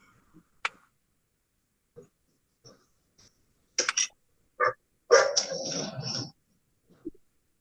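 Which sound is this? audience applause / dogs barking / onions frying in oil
dogs barking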